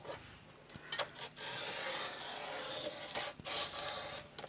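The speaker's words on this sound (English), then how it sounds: "we do need to trim that edge off though." Cardstock edge being trimmed for a handmade shadow box card, a few short scraping cutting strokes with brief pauses between, close and fairly quiet.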